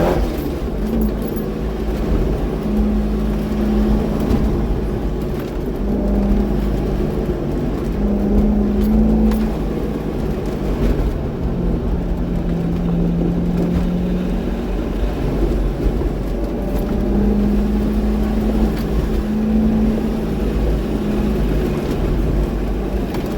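Supercharged C5 Corvette engine droning steadily on an autocross course, a loud continuous low-pitched rumble with gentle rises and falls as the car works through tight turns, no voices.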